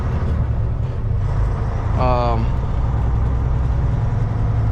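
Pickup truck with a performance tune and aftermarket air intake runs with a steady, close engine drone under constant broadband rumble, with a brief tonal squeal partway through.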